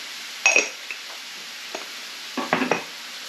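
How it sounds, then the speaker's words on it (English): A bacon and leek pudding mixture being stirred in a bowl, with a few short scraping and clinking strokes close by, separated by quiet pauses. "give this a bit of a mix."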